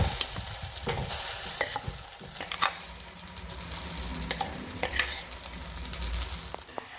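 Ground kengara paste going into a sizzling tempering in a village kitchen, a steady close crackle of hot oil with scraping stirs and occasional sharp pops, no voices.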